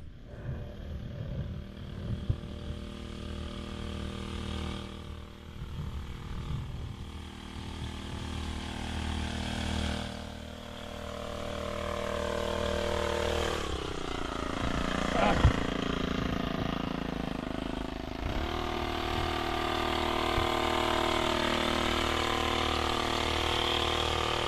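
A motorized sprayer drones steadily while spraying fertilizer over a rice paddy outdoors, its engine note shifting a little in pitch, with people talking over it throughout.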